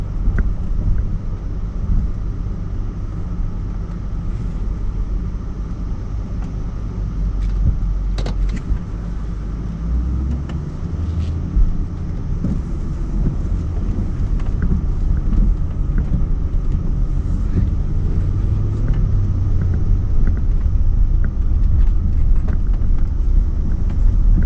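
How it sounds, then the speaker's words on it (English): A 2003 Land Rover Range Rover L322 with a BMW V8 drives along, heard from inside as a steady, loud low rumble of engine and road noise with the air conditioning running throughout. "enjoy what it's like if you've never been in a 2003 Land Rover Range Rover L322 with the BMW V8"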